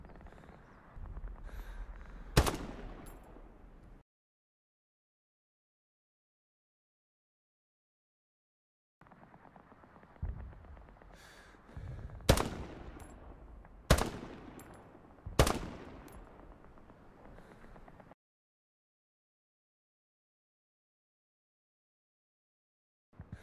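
Several sharp rifle shots from an SVT-40 in the Hell Let Loose World War II game, one early and three more spaced a second or two apart later, each loud and cracking with a short decaying tail, separated by stretches of silence.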